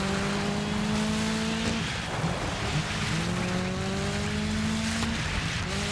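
Race car in Dirt 5 with good speed but loose handling, engine droning loud and close as its pitch climbs and drops through gear changes, with tyre noise underneath and no voices.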